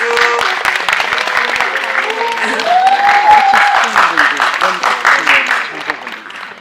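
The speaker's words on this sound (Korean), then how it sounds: "떨지 마시라고 다시 박수." A film screening audience applauds a nervous director joining a Korean movie talk event, steady clapping and cheering filling the hall, loud and continuous, with a voice and some tonal sound rising over it midway.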